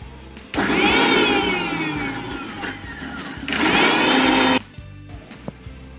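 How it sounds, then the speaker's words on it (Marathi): Cooled whole spices with bay leaf and curry leaves whir in a mixer grinder in two loud bursts, the motor whining up and settling, with a short gap between and quiet after. "आता याला मिक्सरमध्ये वाटून घेऊ"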